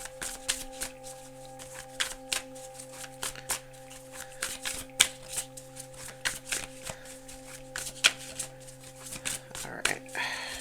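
A deck of cards is shuffled by hand in quick, crisp riffles and soft taps, bursts of flicking repeated across the stretch, close and under a low steady hum, with no speech.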